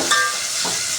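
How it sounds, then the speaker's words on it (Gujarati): Tempering (vaghar) for bitter methi kadhi sizzles in a village kitchen, a brief, bright, hissing fry close by with a faint stirring scrape and no talk. "જોઈ શકો છો મિત્રો બા મસ્ત વઘારી રહ્યા છે."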